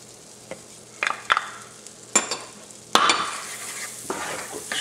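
Spoon stirring garlic and Cajun seasoning in melted butter in a skillet, a soft steady sizzle broken by several sharp scraping clinks against the pan, close up with no voices.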